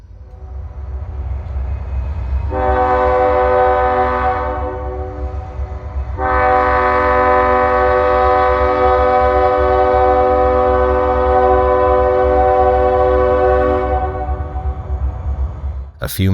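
A heavy inbound freight train led by a 70-year-old short-line locomotive pulls along the tracks with a steady low rumble, while two long loud horn blasts ring out, the second lasting several seconds.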